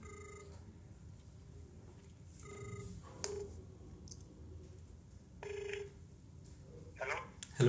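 Ringback tones from a call placed on an Android phone's dialer repeat in short, quiet bursts with pauses between, over faint background voice.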